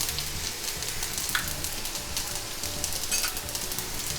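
Mustard seeds and urad dal sizzling and crackling in hot oil alongside brinjal in a home kitchen pan, a dense continuous frying hiss with scattered pops, close and steady.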